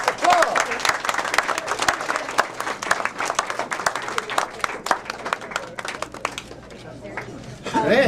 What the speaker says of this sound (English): I think they deserve a tremendous applause.